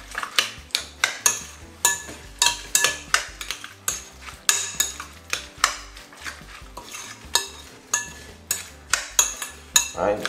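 A spoon stirs a red cabbage mixture in a bowl, clinking and scraping in a steady, fast rhythm of repeated close knocks that runs throughout, with no voices.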